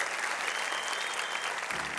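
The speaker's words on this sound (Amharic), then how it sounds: "አጨብጭቡ" Sustained audience applause at a motivational talk, dense and steady clapping from a large crowd that continues evenly throughout, with no speech over it.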